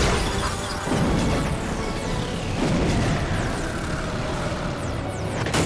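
Cartoon clawpoon harpoon fired at a tank in an animated Chima episode: a loud crash and boom followed by a long whooshing flight with a descending whistle, dense and continuous throughout.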